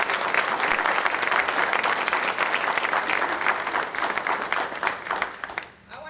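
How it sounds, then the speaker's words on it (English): A graduation audience applauds the graduating class, a dense, steady burst of clapping from many hands in a room that carries on evenly and tails off slightly at the end. "Give this group a round of applause."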